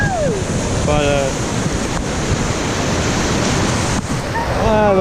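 Atlantic Ocean waves break and wash continuously with heavy wind noise, a loud roaring surf, with brief voices at the start and end.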